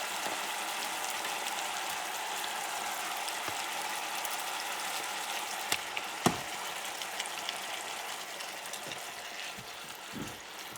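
Ground meat going into a hot pan for Puerto Rican-style chili hotdogs, cooking over medium heat with a steady broadband sizzle throughout and a few sharp clicks and taps of utensil contact near the end.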